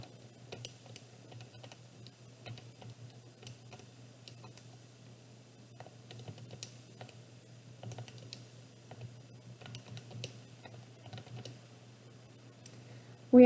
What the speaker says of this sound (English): So back to calculator, we're going to stat edit. I am just going to clear these guys and type in my new data.